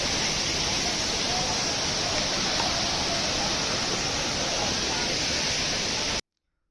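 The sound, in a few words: waterfall at Sariya waterfall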